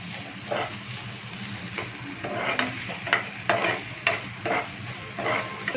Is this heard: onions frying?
yes